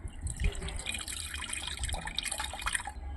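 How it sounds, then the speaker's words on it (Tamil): Dissolved tamarind water is poured into a fish curry, making a short, close splashing and trickling of liquid that runs steadily for a few seconds without speech. "கரசனை புளியை சேர்த்துங்க,"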